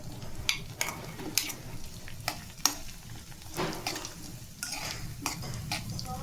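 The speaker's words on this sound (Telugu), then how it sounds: "ఇవి కూడా బాగా వేగేదాకా ఉంచుకోవాలి" Cashew nuts frying in a pan: a quiet sizzle under repeated metallic scrapes and taps of a stirring spoon against the pan, irregular and close.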